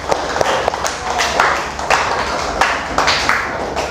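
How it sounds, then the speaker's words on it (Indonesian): A classroom of students applauds, with scattered, uneven claps and taps making a dense, fairly loud patter that rises and falls in waves, with faint voices mixed in. "Oke, tepuk tangan buat semuanya."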